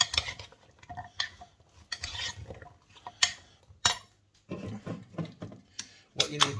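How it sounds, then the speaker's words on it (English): Spoon stirring and scraping beef stew ingredients in a metal pot, a run of close, uneven clinks and scrapes with short pauses, and a voice talking in between. "Give it all a bit of a mix."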